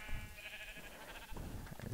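A sheep in the video game Minecraft gives a drawn-out bleat, moderately loud and close, over a steady background of game ambience, with no talking.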